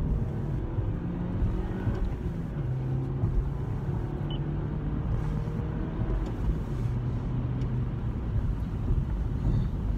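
A 2019 Toyota Corolla XSE hatchback accelerates in second gear, giving a steady, moderately loud engine drone with a slowly rising pitch over road and cabin noise, heard without talk.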